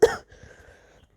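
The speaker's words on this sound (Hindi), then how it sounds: "गाइस, मेरी खांसी को इग्नोर करिए।" A single sharp cough from a woman after eating very spicy food, loud and close at the start, followed by a faint rustle of a tissue in the hand.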